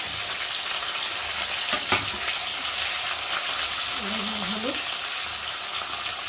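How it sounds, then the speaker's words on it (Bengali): Onion paste, cumin paste, ginger paste and tomato with green chilli fry steadily in a pan for a ridge gourd fish curry, a continuous close sizzle with a faint clink of stirring partway through. "আর নুন দেবো দু চামচ দিয়ে ভালো করে ভেজে নেব"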